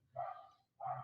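A pet dog barking indoors at home, two short muffled barks separated by a brief pause, fairly faint and heard on their own.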